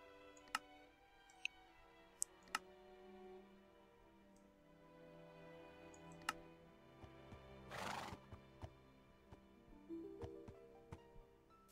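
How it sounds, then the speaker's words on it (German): A horse in the video game Minecraft gives one clear whinny partway through, with soft clicks and faint game sounds around it and no talking. "Pferde."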